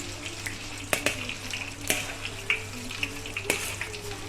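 Cassava leaves frying in oil, a low steady sizzle with scattered sharp crackles and pops, fairly quiet and with no talking.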